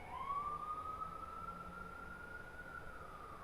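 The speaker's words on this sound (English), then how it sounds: "Sirens going off." An emergency siren wails in the distance, one long rising and steady tone sustained throughout, faint over a background of outdoor hum.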